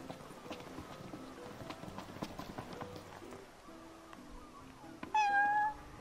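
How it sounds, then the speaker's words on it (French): Cat meowing in the Final Fantasy XV video game, a single clear rising meow near the end after a stretch of game ambience with soft clip-clop footsteps. "Oh, un chat."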